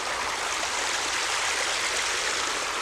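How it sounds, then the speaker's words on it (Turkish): The Ağ çay river flows close by with a dense, steady rush of water, continuous and fairly loud, with no voices over it. "çayın qırağındayam. Bir dənə çaydı."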